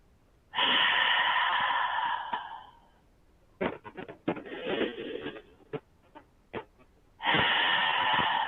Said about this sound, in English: Some exhales out through your mouth to let go of some heat